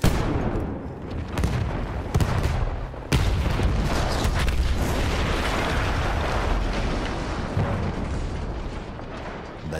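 Constant explosions and artillery fire from the video game Battlefield 1 rumble loud and dense with sharp blasts, forming a continuous roar of combat.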